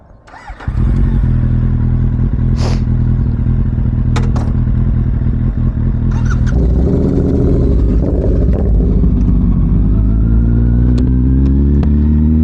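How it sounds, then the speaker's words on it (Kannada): A Kawasaki Z800 inline-four sports motorcycle fires up and rides, a loud, close engine drone that climbs in pitch as it revs and accelerates, with a few mechanical clatters and no talk. "ಇದೊಂದು sports bike, 4 cylinder sports bike"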